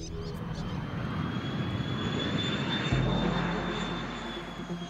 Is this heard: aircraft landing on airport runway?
yes